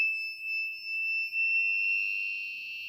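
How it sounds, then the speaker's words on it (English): Alarm circuit buzzer from a DIY thief alarm project sounding at reduced volume, a steady continuous high-pitched electronic tone held for the full few seconds, alone with no talk. "you can see the buzzer's voice is reduced, buzzer's voice is decreased"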